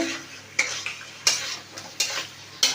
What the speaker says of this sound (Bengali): এবার মাছটাকে দিয়ে দিলাম মাছ দিয়ে ভালো করে নেড়ে চেড়ে